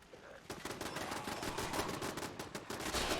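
Automated turrets firing at ghouls in Fallout 76, a rapid rattling burst of gunfire that builds and continues steadily for a few seconds, moderately loud, with no speech.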